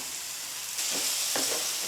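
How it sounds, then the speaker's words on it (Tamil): Steady, bright sizzling of chilies and onion sautéing in a hot pan, with a couple of soft stirring scrapes partway through. "இது ரெண்டும் சேர்த்து நல்லா வதக்கி விட்டுருங்க"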